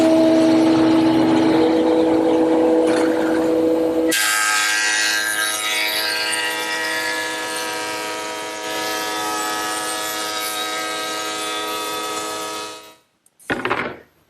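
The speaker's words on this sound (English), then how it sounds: "what I like to use is my thickness planer. Take a 30-second off each side and you'll end up with a nice smooth surface" A thickness planer feeds rough lumber boards, with a loud motor whine that jumps into a harsher, bright cutting roar as the board passes through, holds steady, then cuts off abruptly, followed by a short clunk.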